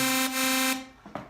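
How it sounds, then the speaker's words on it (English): A bright, buzzy FL Studio synth tone with rich harmonics holds steadily, then cuts off into a lingering reverb-effect tail with a couple of softer echoing blips. "So if I turn on the reverb"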